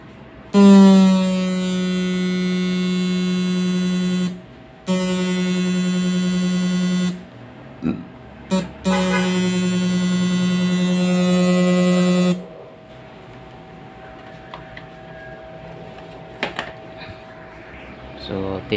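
A homemade MOSFET-type fish shocker humming loudly in long steady electric buzzing bursts with brief gaps and clicks, followed by quieter background noise with scattered knocks.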